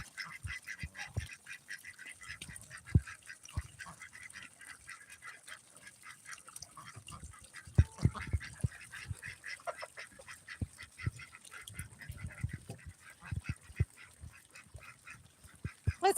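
Domestic ducks on a farm, with males and a female among them, give repeated quacks and honking calls scattered through the scene, fairly close and moderately loud against a steady background hiss.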